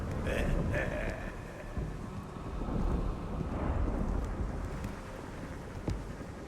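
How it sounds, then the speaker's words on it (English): Howling sandstorm in the video game Unknown 9: Awakening, a steady roar of wind and blowing grit that surges and eases throughout, with faint voices underneath. "That storm's not going to be pretty."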